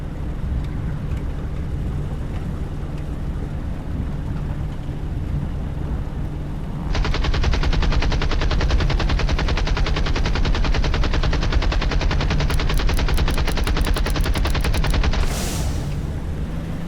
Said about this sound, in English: You get a heck of a vibration and shaking with 850 caliber machine guns firing at once.